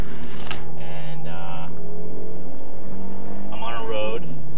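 A Mercedes GLK 350 4MATIC in sport mode runs downhill on a road outside Julian, California, its steady low engine drone sitting beneath someone talking throughout.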